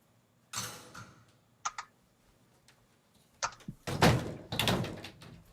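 Doors being pushed shut indoors in a quiet home room, giving a few separate thuds and clunks with a short pause between, close and moderately loud, then a louder burst of knocking and movement near the end.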